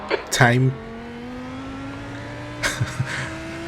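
Lamborghini Huracan GT3 Evo race car in the iRacing sim at Hockenheim, its engine droning steadily with rising revs through a gear, with brief louder bursts near the start and toward the end; talk is present at moments.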